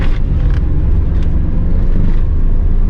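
BMW 323iA E36 from 2000 revving after a downshift into second gear, with a loud, close, deep engine rumble that holds steady throughout and a few faint higher bursts near the start.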